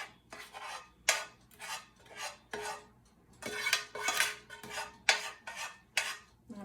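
Ground hamburger meat is spread and pressed into an 8x8 Pyrex glass baking pan, giving a series of close, scraping and tapping strokes in an uneven rhythm with no talking.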